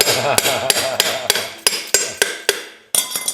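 Sharp hammer blows on metal parts of a VW link-pin front end ring out about ten times in an uneven rhythm, close and loud, with metallic ringing between strikes.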